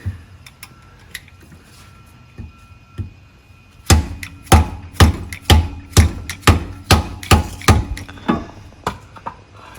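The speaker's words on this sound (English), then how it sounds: "Not the best angle for hammering." Someone hammers on a Fox Body Mustang while installing the rear upper control arms. After a few scattered taps, a run of loud metallic blows begins, struck close and at a fairly regular rhythm, about a dozen in a row.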